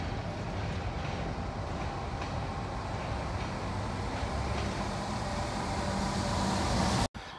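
Freight train rolling past on an Indiana & Ohio Railway spur line, a steady loud rumble with faint clicking of wheels on track, continuous and near until it cuts off abruptly.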